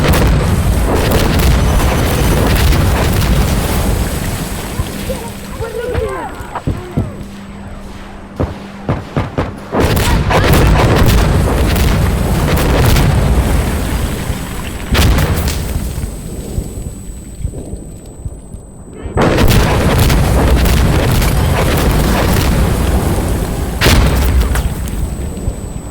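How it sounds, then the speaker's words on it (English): Grenade explosions in the co-op shooter Insurgency Sandstorm: several heavy, rumbling booms hit at intervals over a steady background of combat noise, each close and loud. "Grenade out!"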